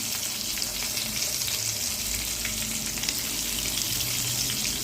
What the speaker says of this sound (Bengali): মশলা মাখানো বেগুনগুলো ভালো করে এবার ভেজে ভেজে তুলে নেব